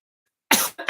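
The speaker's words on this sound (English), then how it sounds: "That's why I just coughed." A single sharp cough bursts out close and loud after silence, followed by a brief throat-clearing rasp and a second short cough.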